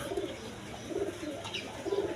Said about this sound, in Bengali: এক পেয়ার বোম্বাই কবুতর আছে ইন্ডিয়ান বোম্বাই